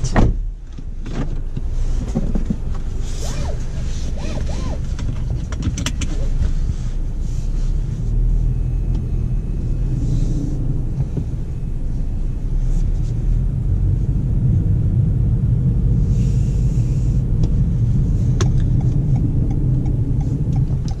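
A 2019 Toyota Corolla Hatchback XSE on a test drive, heard from inside the cabin as a constant low road and engine rumble with faint clicks and interior noises, steady throughout.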